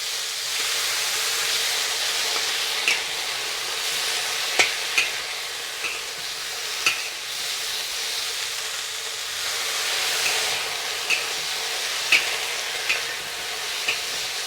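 French beans with dried shrimp stir-fry in a hot wok as sauce is poured in, giving a continuous loud sizzle and hiss with periodic scraping clicks of stirring, and no talking.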